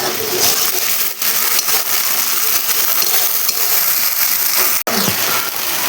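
Ginger-cumin paste dropped into onions already frying in a pan for a pabda fish curry, giving a steady, loud broadband sizzle that runs throughout, with a brief sharp clack near the end.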